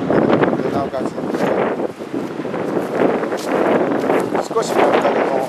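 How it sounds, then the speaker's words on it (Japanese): A strong south wind blows at Zaimokuza beach in Kamakura on a summer day, buffeting the microphone with loud, continuous gusty rumble while people talk throughout. "この数時間南風がもうすごく吹いてますが"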